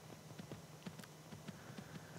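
Soft, steady clip-clop of a horse's hooves while riding in Skyrim, a faint regular rhythm over a low ambient hum.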